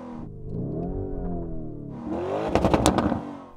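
The twin-turbo V8 of a Porsche Cayenne Turbo S idles with a smooth, rising and falling hum, then is revved in a few sharp, louder blips close by.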